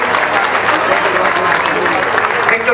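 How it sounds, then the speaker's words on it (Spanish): Steady, dense applause from a large audience greeting a speaker as he approaches the podium at a public gathering, loud and continuous throughout with crowd murmur mixed in. "ya que le están aplaudiendo"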